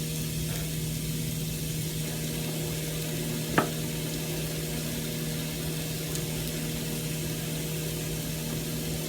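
Tofu sizzling steadily in a hot stir-fry pan for a healthy vegan stir-fry, a constant close crackle with a low hum underneath and one brief sharp tap partway through.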